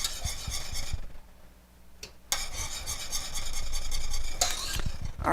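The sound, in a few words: stirring thickening chocolate cream pie filling in a pot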